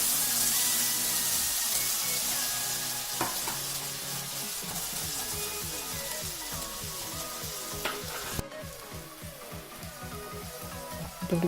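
Spice paste for methi malai paneer sautéing in a pan, a soft steady sizzle with repeated spatula scrapes and stirring, and a sharp clink near the end.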